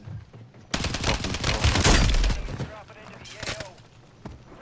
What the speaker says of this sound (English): They shoot me from the goddamn top